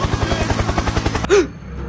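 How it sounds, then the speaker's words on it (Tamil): A comedic helicopter sound effect: rapid, evenly pulsed rotor chopping, loud and close for just over a second, then cut off by a short whooshing chirp and quieter background. "helicopter helicopter"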